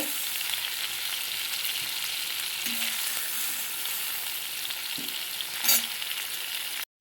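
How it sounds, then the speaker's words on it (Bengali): Prawns sizzle in hot oil, lightly fried, with a steady, close frying hiss, punctuated by a few soft clinks of stirring. "চিংড়ি মাছটাকে হালকা করে ভেজে নিয়েছি"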